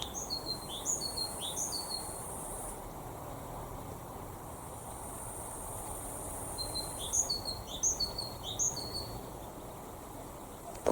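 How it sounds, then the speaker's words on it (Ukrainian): A crested lark sings in a quiet rural village setting, giving two bursts of high, thin, rapid chirping notes separated by several seconds of faint background hush, moderately distant. "Ми, ми її називали посмітюха."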